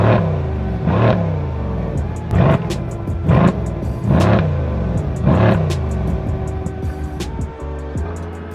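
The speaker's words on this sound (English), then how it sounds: "So as you guys just heard, this V8 sounds so good, so iconic." A Mercedes C63s V8 revs through its exhaust in a series of about five sharp throttle blips, each rising into a deep roar and falling back to a burbling idle, loud and close.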